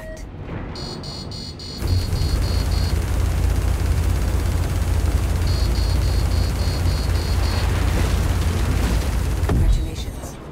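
A deep, sustained explosive rumble roars for several seconds as a target ship is destroyed in the space game Star Citizen, flown in a Drake Buccaneer, with faint beeping interface tones above it before the blast fades out.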